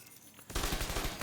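Turret skill in The Division 2 firing at an invulnerable elite target, a sudden loud burst of rapid automatic gunfire that begins after a quiet moment and continues steadily to the end.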